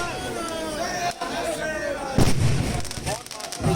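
Firecrackers and bombs set off at the Chief Minister's residence in Jharkhand during a political celebration, loud bursts and cracks over a noisy crowd, with people talking and shouting throughout.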